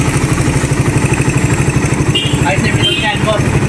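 A Yamaha Raider 150 motorcycle engine fitted with a Koso KSR 28mm carburetor runs close by with a rapid, steady putter, while a person talks briefly over it.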